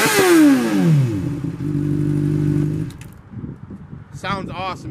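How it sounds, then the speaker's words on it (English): A 2015 Honda CBR600RR with a dual Hyperflow carbon fiber exhaust revs up close, its pitch sweeping down as the throttle drops, then settles into a steady hum before cutting back, with a brief voice near the end. "It's got a dual hyperflow carbon fiber exhaust, guys. It sounds great. Let's give her a turn here."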